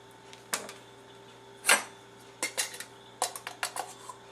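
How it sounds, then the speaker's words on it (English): A metal flour sifter is shaken over a bowl in a kitchen, giving a series of light rattling, clinking bursts in uneven quick clusters, close and moderately quiet. "And just shake your sifter to get it all sifted out."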